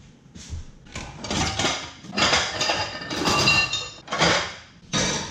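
Pots and pans clanking and clattering nearby as someone rummages through cookware in a kitchen, a busy run of metallic knocks, scrapes and clinks with brief pauses, fairly loud and close.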